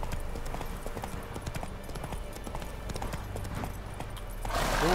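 Horse hooves gallop at a steady clip-clop rhythm in The Witcher 3, a close, continuous pounding run with game ambience beneath and a louder swell near the end.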